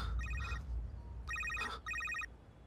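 A telephone rings in short electronic trill bursts, three rings spaced with pauses, clear and close over a low background hum.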